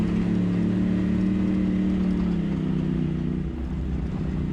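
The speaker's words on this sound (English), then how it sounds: "Tell you what, that Razor Pro sounds pretty good." A Polaris RZR Pro side-by-side idles and runs steadily on a mountain trail, a loud, close, continuous low engine drone with a slight pitch drop partway through.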